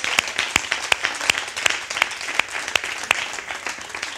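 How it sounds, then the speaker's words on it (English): A church congregation claps hands for God in a steady, rhythmic beat, sharp evenly spaced claps with a soft crowd murmur behind them. "clap your hands for God"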